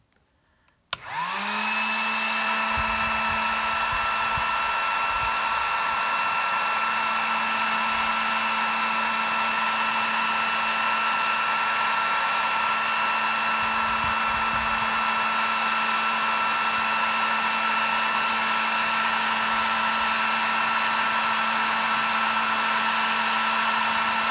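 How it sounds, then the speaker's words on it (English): A heat gun blows steadily while shrinking heat shrink tubing, switching on after a brief quiet start and holding a loud, even whine with a low hum for the rest of the clip. "We're going to try shrink tubing this down with the heat gun."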